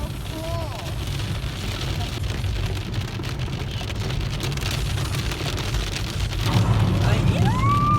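Heavy rain and hail pound steadily during a storm with flooding in Calgary, Alberta, a dense continuous roar with low rumble underneath and faint tonal chirps near the end.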